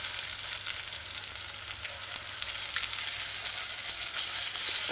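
Okra and cho-cho stew with coconut milk bubbles and sizzles steadily in a pot on the stove, a close, continuous hiss with faint scraping of stirring and no talking.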